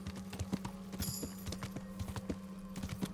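Horse hooves clip-clopping at a steady trot while riding in the video game Kingdom Come: Deliverance, with a brief chiming game cue partway through and no talking.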